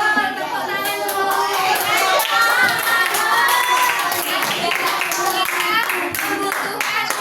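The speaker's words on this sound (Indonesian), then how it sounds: "Tepuk tangan dulu." A class of children claps hands together in a classroom, a dense, brisk burst of clapping mixed with children's chatter and a teacher's voice.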